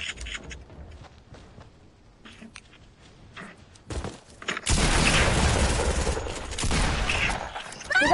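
Scattered gunshots crack at first in a video game, then a loud, sustained barrage of rapid automatic gunfire erupts and continues to the end.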